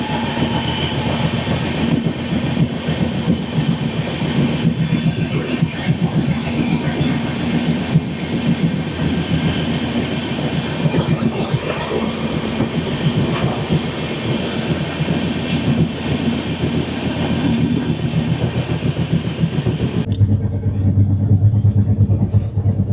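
A Dibrugarh–New Delhi Rajdhani Express train runs on rails with a steady, loud rumble and rolling wagon noise throughout, heard from on board; the tone shifts near the end.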